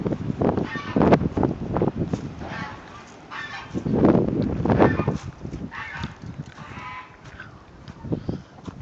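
Farmyard chickens, including silkies, and a rooster calling in a noisy cluster, overlapping clucks and crowing-like calls rising and falling, fairly close, in cold wind.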